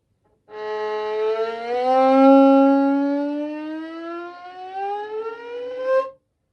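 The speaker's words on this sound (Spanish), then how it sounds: "va a cambiar la nota, desde una nota más grave a una más aguda" A single sustained siren-like tone glides steadily from a low pitch to a higher one over about six seconds, rich in harmonics, starting and ending abruptly with no talk.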